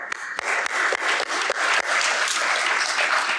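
An audience at a urological society meeting applauds the organizers, a dense, steady wash of many hands clapping close by for a few seconds, with no talk over it.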